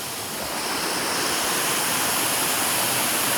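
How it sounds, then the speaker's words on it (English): Pdem falls, a small waterfall, roars as a steady, loud broadband rush of falling water that stays constant and unbroken throughout with no voices. "Oh, you have blue waterfalls."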